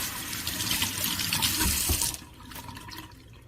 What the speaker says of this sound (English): let's run it under some hot water